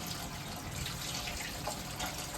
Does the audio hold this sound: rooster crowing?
no